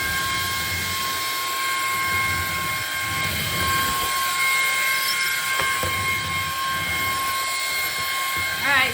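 A Ryobi cordless stick vacuum runs continuously with a steady, high-pitched motor whine and airy rushing, close and even throughout, with faint room noise behind it.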